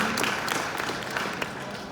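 A fan expo panel audience in Vancouver applauds for Stan Lee, a soft, even spread of many hands clapping at a distance, steady and fairly faint throughout.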